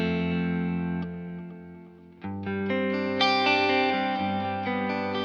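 An electric guitar through a Keeley HALO Andy Timmons Dual Echo pedal, set to echo with no modulation, rings out sustained chords whose repeats trail and overlap, with no talk.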